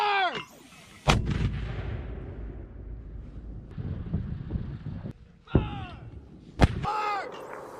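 Live-fire gunfire from US Army paratroopers during a combat drill with Slovenian forces outdoors: sharp loud shots and heavy booms with rumbling echoes, a few spaced blasts. Shouted commands are heard between them.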